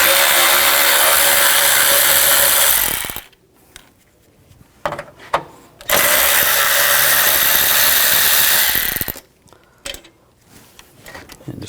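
Power tool whirring in two long bursts loosening side bolts with a 10mm socket on a 2000-2006 BMW X5 3.0L, separated by quieter clicks and metal handling.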